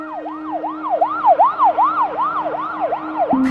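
An ambulance siren wails in a steady repeating rise-and-fall pattern, loud and close, with a low constant hum underneath and no voices.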